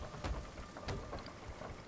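Stormy weather in the pirate game Sea of Thieves: steady rain hiss with low rumbling thunder rolls and a couple of brief crackling strikes, moderately loud throughout with no speech.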